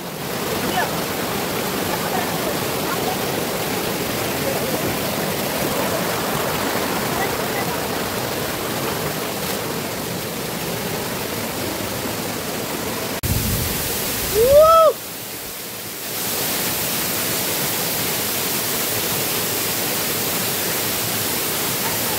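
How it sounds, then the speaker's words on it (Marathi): A waterfall at Digawale Ranjanwadi in the Konkan region gives a steady, broadband rush of falling water that runs almost unbroken throughout. A brief louder disturbance and a short whistle-like sound come near the middle, then the even roar resumes. "अतिशय सुंदर असा धबधबा दिगोळे अंगणवाडीमध्ये होऊ लागतात"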